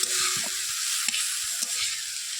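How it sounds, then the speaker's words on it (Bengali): Potatoes and onion frying in a pan give a steady, close sizzle, with a few soft clinks of stirring scattered through. "পেঁয়াজ দিয়েছি আলু ভাজাতে"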